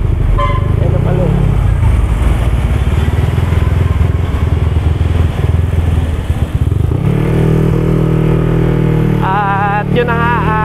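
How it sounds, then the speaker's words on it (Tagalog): A Yamaha NMAX scooter rides along a bypass road, its engine droning loudly with wind rush and passing traffic, and a rider talks over the steady motor noise throughout. "ang gamit nating motor ngayon ang NMAX"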